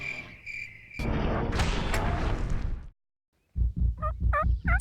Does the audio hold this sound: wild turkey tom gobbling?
yes